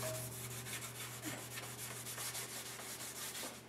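Stain is rubbed by hand onto a wooden cabinet door aboard a trawler, a quiet, rhythmic swishing of repeated strokes with a low steady hum underneath.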